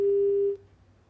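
A steady single-pitch phone busy tone sounds when a call line drops, holding for about half a second and then cutting off into quiet line noise.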